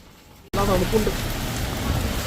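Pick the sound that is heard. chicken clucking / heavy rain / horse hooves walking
heavy rain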